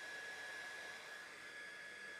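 A hair dryer blows steadily during a makeup routine, used to warm an eyelash curler; a continuous close whooshing hum with a thin high whine, heard alone.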